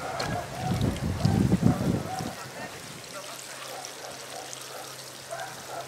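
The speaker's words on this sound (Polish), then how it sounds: "My to zaraz podlejemy też." Water is poured onto the soil around a newly planted young tree, a splashing gush in the first couple of seconds that then fades into a quiet trickle and low hum.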